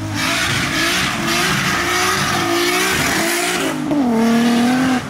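A modified Toyota Chaser pulls away hard from a car meet, its engine revving loudly and climbing through the gears with tire squeal, close and dominant with a brief lift before surging again.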